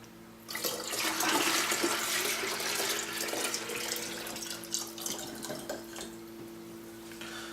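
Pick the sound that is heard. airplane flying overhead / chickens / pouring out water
pouring out water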